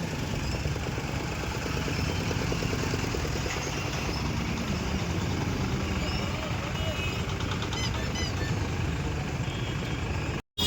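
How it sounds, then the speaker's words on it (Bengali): A traffic jam of idling trucks on a road at Nalhati bazaar, a constant dense rumble of engines and street noise that cuts off abruptly near the end. "সাংঘাতিক লেভেলের জাম হয়ে আছে গাইস, দেখো পুরো জামে ভর্তি।"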